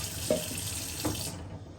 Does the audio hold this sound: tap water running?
yes